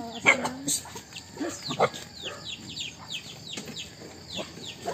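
Dogs bark in short bursts at a moderate distance on a farm, several yelps clustered early, with chickens and other farm animals faintly in the background.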